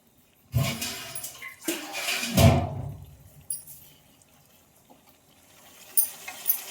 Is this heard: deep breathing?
no